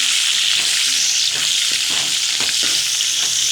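Chopped onions sizzle and crackle loudly in hot oil while making kurma, with occasional scraping stirs, close up and without any talking.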